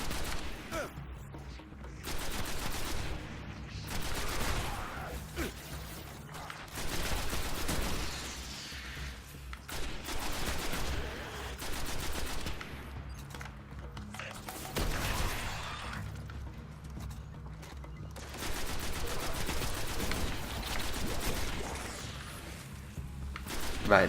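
Gunfire in the shooter Destiny, repeated bursts of moderately loud shots and impacts coming in clusters over a constant game soundscape, with a voice talking intermittently across it.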